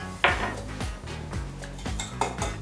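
Spoon stirring sugar into warm water in a bowl, with a sharp clink and repeated light scraping and tapping against the bowl in an uneven rhythm, close and clear.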